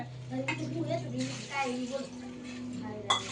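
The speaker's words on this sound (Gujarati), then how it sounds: "1 ગ્લાસ પાણી લેવાનું છે" Water splashes and runs briefly into a vessel, fairly quiet, while a person talks over it.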